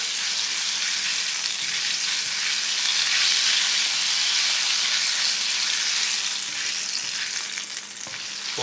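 Kashmiri chili powder frying in hot oil in a pan, a continuous dense sizzle close by, steady throughout with faint stirring, no voices.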